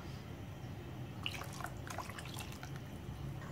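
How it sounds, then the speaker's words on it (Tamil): Water poured into a Kerala-style roasted chickpea curry gravy in a pan, a faint, brief trickle and splash of liquid lasting about a second, set against a low background hum with no talking. "நம்ம தண்ணி சேர்த்துக்கலாம்"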